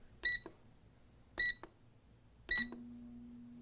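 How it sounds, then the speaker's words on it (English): An air fryer's timer gives three short electronic beeps at even intervals, close and clear, followed by a low steady hum as the fryer starts. "Now, we place the chicken in an air fryer and set the timer."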